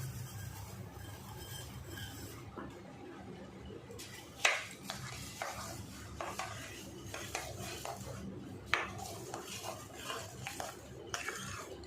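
Mango pulp and sugar are stirred in a metal pot, a spoon scraping and clinking against the sides in uneven strokes, with a couple of louder knocks; close and fairly quiet, with no talking.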